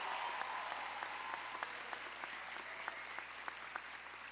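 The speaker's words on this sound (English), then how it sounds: "Let's have a round of applause for them as well." A faint, distant commencement audience applauds steadily, its scattered claps blurring into an even wash for the whole stretch.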